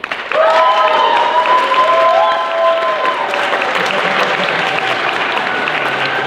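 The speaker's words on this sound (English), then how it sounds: "Clap as loud as you can." Loud audience applause with some cheering at an improv comedy show, a dense burst of clapping that holds steady then gradually thins out while a few voices call out over it.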